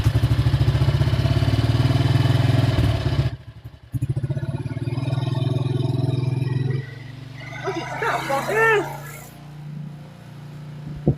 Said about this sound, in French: Moi, j'ai peur des moteurs.